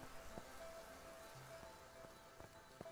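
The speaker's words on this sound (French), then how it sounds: "Ah, il pleut, c'est pour ça." Soft, steady rain in the video game Deiland patters continuously, with scattered individual drops tapping and a faint low hiss underneath.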